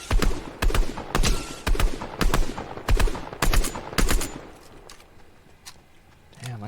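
Gunfire from shooting an enemy in Vampire Survivors, heard as a series of loud, close, rapid bursts that stop partway through, leaving a quieter tail.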